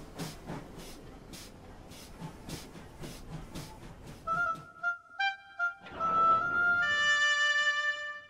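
Rhythmic chuffing and hissing of a train slowly reversing down onto a stricken train, then sustained high whistle-like tones and steam hiss near the end.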